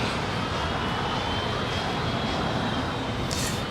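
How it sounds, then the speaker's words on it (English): A JetBlue Airbus A321 jet rolls down runway 25 right at LAX with a steady, broad engine roar, heard from a distance and holding constant throughout, with no talking. "It's an A321 now rolling down 25 right."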